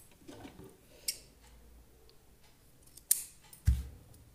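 Scissors snip crochet thread, giving a few sharp isolated clicks spread apart in a quiet room, faint overall with one firmer cut near the end.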